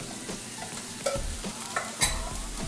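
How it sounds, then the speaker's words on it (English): Onions, garlic and peppers sizzle and crackle in a hot oiled sauté pan while being stirred, with a few scraping clatters of a utensil against the pan. "Everybody loves the sound of it sizzling."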